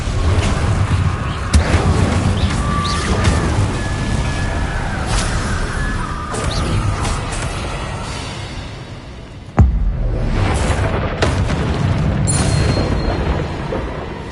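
Confringo blasting spells fired in the Hogwarts Legacy video game, a loud, dense stretch of booming explosions and crackling magic layered over a constant rumble, with one sharp blast standing out near the end.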